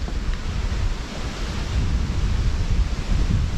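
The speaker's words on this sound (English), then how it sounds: "as you can probably hear, really strong wind" Strong wind blasts outdoors during a Polymath Products Phantom ultralight stove boil test, a loud continuous roar buffeting the microphone with low rumbling gusts and no voices.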